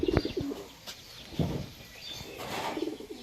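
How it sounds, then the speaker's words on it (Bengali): Soft, low coos from a female pigeon come in short bursts, close by, with a few faint chirps and a brief flutter among them. "মাদি কবুতর"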